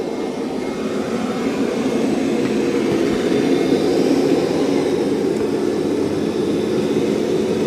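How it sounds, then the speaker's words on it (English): A robot vacuum and mop runs over carpet with its mop pads lifted and suction raised, giving a steady, loud, even whirring roar with no talk. "Now when it senses carpet, it's going to lift those mop pads, turn them off, and increase suction."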